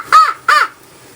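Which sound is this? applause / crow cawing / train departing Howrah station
crow cawing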